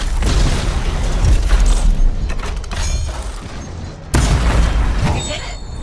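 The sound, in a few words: Colossus siege cannon firing explosive shells in video game Anthem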